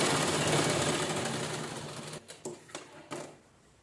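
Sewing machine stitching a cushion cover made from leftover blouse fabric pieces, a steady close mechanical whirr for about two seconds, then a few short separate bursts of stitching.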